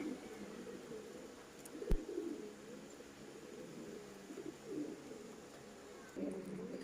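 Foreign-breed pigeons in a loft coo softly in low, rolling phrases that come and go, faint and close, with a sharp knock partway through.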